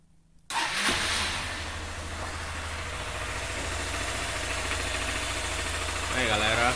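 A 2020 Honda Fan 160 motorcycle engine starts abruptly after a moment of silence and settles into a steady, close, loud idle with a slight rise near the end.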